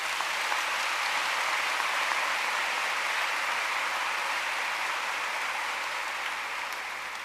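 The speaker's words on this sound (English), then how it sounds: "Please give them a round of applause." Sustained applause from a crowd, a steady wash of clapping at moderate distance that holds evenly and fades slightly at the end.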